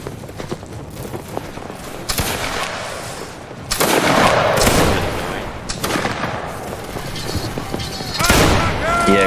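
Musket volleys in a Napoleonic line battle video game as Saxon fusiliers fire at will, with scattered loud shots and rolling crackling fire at varying distances, while voices talk over it.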